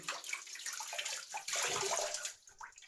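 Water splashing as a flannel is soaked before a wet shave, a close, brief bout of sloshing and dripping that swells in the middle and then trails off.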